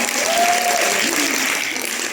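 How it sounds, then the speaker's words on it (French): An audience at a women's faith conference applauds, a full, continuous roar of clapping with a voice carrying briefly over it before the clapping thins slightly toward the end. "on peut applaudir"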